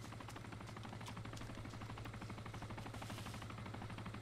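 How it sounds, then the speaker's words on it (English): A helicopter in the military game Arma II, a steady low rotor throb with a constant engine drone, moderately close and unchanging throughout, with no other sounds on top. "I hear a helicopter."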